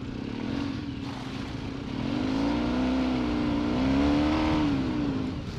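Off-road motorcycle engine revving hard as the rear wheel spins on loose ground, a loud droning note that swells and wavers, close by with no talk.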